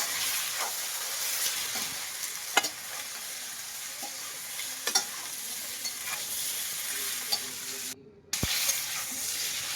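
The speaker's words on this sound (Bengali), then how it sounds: "সামান্য মশলাটা তাও কিন্তু প্রায় এক থেকে দেড় মিনিট ধরে কষিয়ে নিলাম" Turmeric, cumin and salt fry in a pan for spinach saag, giving a steady close sizzle with the scrape of a spoon stirring at intervals and a brief dropout near the end.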